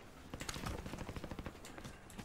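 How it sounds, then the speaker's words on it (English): Rapid gunfire from a Call of Duty Modern Warfare 2 Plunder match, a burst of quick repeated shots at moderate level, fairly close, with no talk over it. "Gunfire sounds close."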